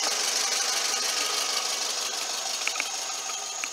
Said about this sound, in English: that is a dual overhead cam 4-cylinder engine